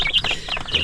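Chickens cluck and chicks peep in quick, overlapping bursts, close by and fairly loud, with no talking.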